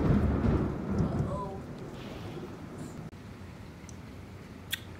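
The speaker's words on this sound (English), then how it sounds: "It's rain." Rain with a rolling thunder rumble, loud at first and fading into a steadier patter of falling rain, with light background noise and brief voices.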